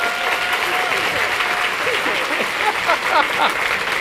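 Audience applauds a woman named Glenda Wilson at a gathering, steady dense clapping sustained throughout with a faint murmur of voices underneath.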